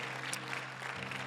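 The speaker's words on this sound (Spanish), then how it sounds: "Give a big applause to the Lord." Church congregation applauding during a bilingual Spanish-English worship service, a steady, dense wash of clapping that fills the room without pause.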